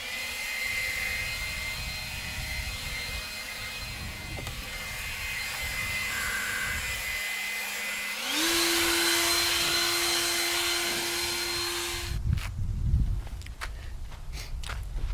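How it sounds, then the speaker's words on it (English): A blower clears loose debris from a freshly poured concrete shower slab outdoors, with a loud steady engine drone that revs up to a higher pitch partway through, then cuts off and leaves rustling and footsteps. "Now I'm going to hit it with a blower."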